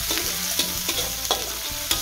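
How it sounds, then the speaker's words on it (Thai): Curry paste stir-fried in a pan until fragrant for a spicy fish dish, a loud continuous sizzle with quick rhythmic scrapes of the spatula every half second or so. "แก้สีผัดให้หอมก่อนนะคะ"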